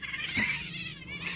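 A cat caterwauls and yowls loudly and close, a strained, wavering cry that rises to a peak early and carries on unbroken, with the animal apparently stuck somewhere during a fight.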